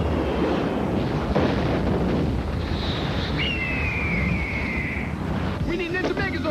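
Rocket launch and explosions in the Power Rangers movie: a continuous deep rumbling roar with a whistling streak of a rocket passing, dense and loud throughout.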